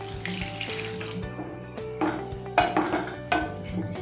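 Water splashes into a hot pan of pakoda gravy in a few short bursts, with hissing and a clink of cookware between pours.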